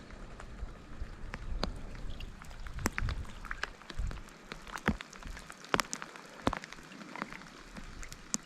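Rain starting to fall at a jeep campsite, scattered drops pattering and tapping irregularly on nearby surfaces, faint and sparse against a quiet background.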